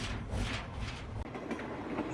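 A train pulls away from Santragachi station with a steady, loud rumble and rattling wagons, its clatter continuing without any voices over it.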